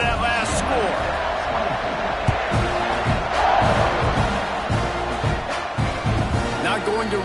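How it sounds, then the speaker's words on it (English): A football stadium crowd buzzes late in the fourth quarter, a dense, continuous roar of voices with scattered shouts and thumps, and an announcer talks over it. "this crowd is buzzing after that last score"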